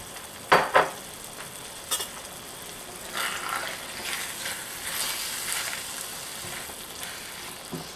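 Frozen peas go into a sizzling pan of cottage pie filling with onion and celery. A couple of sharp clatters open it, then a steady close frying hiss carries on without talk.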